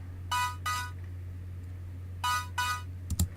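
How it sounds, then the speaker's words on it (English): Ableton Poly synth playing a saw wave layered with noise and chorus: four short, bright stabs arranged in two pairs, sitting over a steady low hum and ending with a small click. "all I'm doing over here is using the saw wave with some noise and some chorus"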